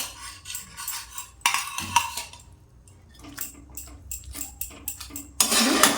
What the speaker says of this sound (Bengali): ঝোল ফুটে এসেছে, ভাজা পাবদা মাছগুলো দিয়ে দিলাম